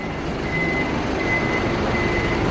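A bus backing up at a stop in Taiwan sounds its reversing alarm, three steady evenly spaced beeps over a loud, continuous diesel engine rumble close by.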